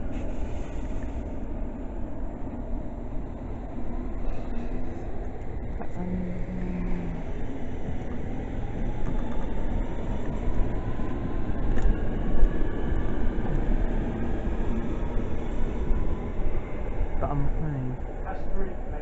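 A London Underground Metropolitan line train passes, giving a continuous low rumble and rolling wheel noise that builds slightly and holds steady for many seconds.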